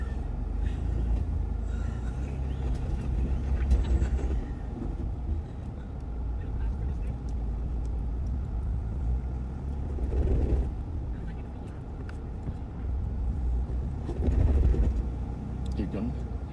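Ford Bronco driving off-road on a Texas course, its engine a steady low rumble throughout with a few louder surges as it climbs and pushes over terrain, while people talk over it.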